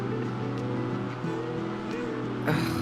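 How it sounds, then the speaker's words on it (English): A Cessna 310R twin-engine aircraft's engines drone steadily in the cabin, a low constant hum with slight pitch wavers, heard close and uninterrupted. "The engine was going great yesterday. Now it's really starting to struggle."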